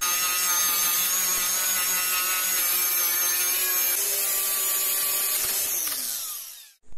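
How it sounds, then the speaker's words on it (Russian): Sanding a homemade metal attachment for an angle grinder: a loud, close, continuous whine with a steady drone that holds for about six seconds, then winds down and cuts off near the end. "Теперь надо немножко шлифануть все это."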